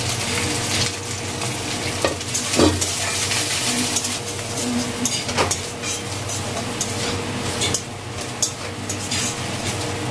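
Cashews, raisins and grated coconut fry in a hot pan, giving a continuous loud sizzle with scraping and clinking from stirring throughout.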